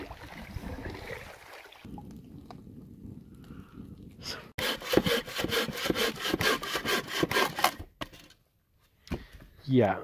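A hand saw cuts through wood outdoors on a canoe fishing trip, its rapid back-and-forth strokes loud and close in a steady rhythm after a quieter stretch of rubbing sounds, then stopping briefly before resuming.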